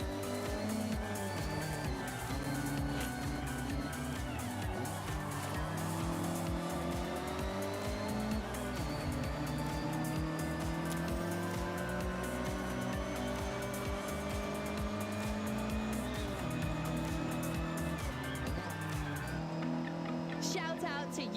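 Retro sports cars race in the Forza Horizon video game, their engines revving loudly and steadily with shifting pitch as gears change, and tires occasionally squealing.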